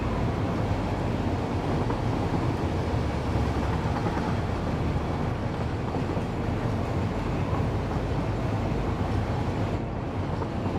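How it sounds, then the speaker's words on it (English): A train in the video game Satisfactory rolls toward a platform, a steady loud rumbling drone that holds evenly throughout with no talk. "I think it's probably safe to move the train up to the other platform for now."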